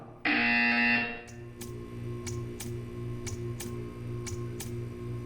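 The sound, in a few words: buzzer in a video game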